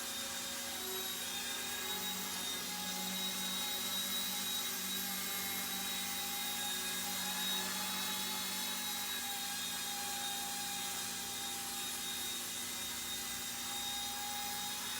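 An Eachine E120 BO-105 RC helicopter flies on the stock radio, giving a constant high-pitched rotor and motor whine with a steady hum that stays even and continuous throughout.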